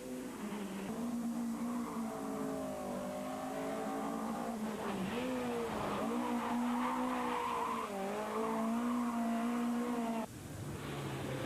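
Ford Escort rally car thrown sideways on a 2003 Punchestown rallysprint stage, engine revving hard and wavering with pitch changes as it slides, tires squealing, fairly distant and steady before a brief drop at the end.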